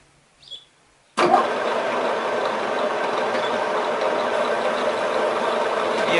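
A milling machine kicks on abruptly at 160 RPM and runs steadily while planing L-angle parts, producing a continuous close mechanical drone after a brief faint click.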